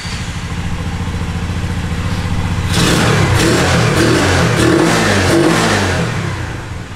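Boom Vader 125cc motorcycle, a Honda Grom clone, idling with a steady close putter before revving up smoothly and holding higher throttle, loud and near.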